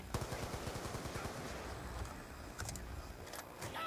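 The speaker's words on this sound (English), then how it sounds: "I'm gonna get up and shoot." Rapid automatic gunfire from a Black Ops 2 Zombies match, a dense rattling stream of shots that runs steadily throughout with a few sharper bursts near the end.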